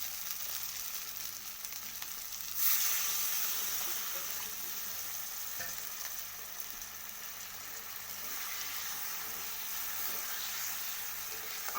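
Hard-boiled duck egg curry sizzles and fries steadily in a pan after a little water is added, a loud spitting burst near the start settling into a continuous close frying hiss with no talking.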